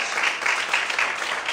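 Church congregation clapping loudly and continuously in a steady, dense wash of hand claps, filling the room without any voices on top.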